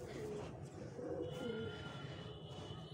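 A pigeon coos softly in a short low, throaty phrase near the middle, with steady background noise and no talk.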